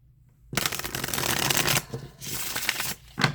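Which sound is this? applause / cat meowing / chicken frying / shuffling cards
shuffling cards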